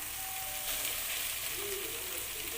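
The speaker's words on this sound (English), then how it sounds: "now we have to put our chopped boiled meat inside." Chopped boiled meat hitting hot oil in a frying pan for Goan sorpotel, giving a steady, close sizzle that runs continuously with soft stirring rustles.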